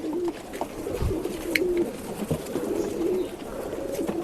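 Male Sabja pigeon cooing in a loft during a Bangalore pigeon sale, repeated soft low coos in an easy rhythm, close by, with light background bustle and no talking.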